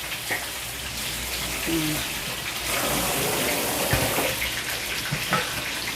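Tap water splashes and runs over a pot lid being rinsed of oil, a continuous close gushing with small drips and knocks throughout.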